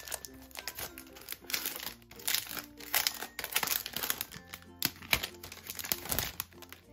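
Crinkling of a plastic packet holding Hello Kitty stickers, close and quiet, in irregular rustling bursts with small crackles and handling noises throughout.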